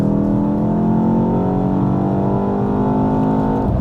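A 2024 BMW X2 M35i in sport mode accelerates hard, its engine note climbing steadily and loudly from inside the cabin before a brief dip as the gear shifts.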